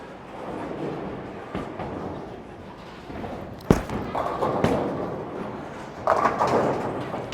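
A Roto Grip Gem bowling ball rumbles steadily down the lane, then hits the pins with a sharp thud and a scattering clatter, followed by later crashes of pins.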